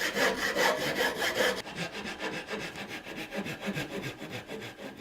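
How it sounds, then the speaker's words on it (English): A hand saw with crosscut teeth rough-cuts a hardwood blank for a Swedish butter knife, a close, rhythmic rasp of strokes that quickens at first and then settles into a slower, softer back-and-forth. "so we'll rough cut this out with our saw"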